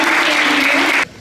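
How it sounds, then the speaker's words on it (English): Audience applause for former mayor Dan Plato at a Youth Day celebration event, a loud, dense burst of clapping that cuts off abruptly after about a second. "So a round of applause for him."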